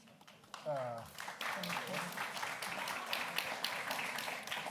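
A crowd applauds steadily after a brief vocal sound at the start, a dense, sustained patter of many hands clapping at moderate loudness.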